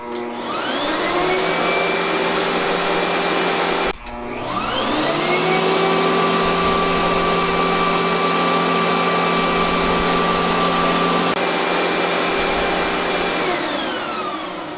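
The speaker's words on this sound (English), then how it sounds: "We will first demonstrate with a 12 amp home vacuum." A 12 amp household vacuum cleaner runs off a 2000 watt, 24 volt DC to 120 volt AC power inverter, giving a loud, steady whine with a brief dip near four seconds before spinning back up, then winding down at the end.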